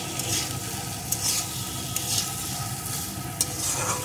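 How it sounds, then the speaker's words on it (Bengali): Papaya fries in oil with spices and rinsed red lentils, giving a steady close sizzle. Repeated scraping strokes of a spoon stirring the pan run through it, and there is no talking. "ডালটাও একটু পেঁপের সাথে কষিয়ে নেব।"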